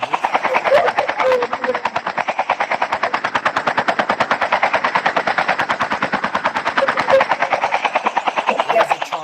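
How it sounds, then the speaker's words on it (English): A helicopter in the Call of Duty video game thrums with a rapid, steady rotor chop for the whole stretch, loud and close, mixed with bursts of automatic gunfire. "What is that chopper going for?"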